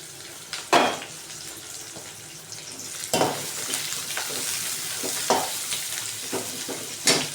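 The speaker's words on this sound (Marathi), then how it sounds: "आता टाकू कांदा कांदा लाल करून घेऊ" Chopped onions frying in a pan until browned for a Khandeshi sev curry, a steady broadband sizzle with several sharp scraping stirs of a spatula at intervals, close and fairly loud, with no voices.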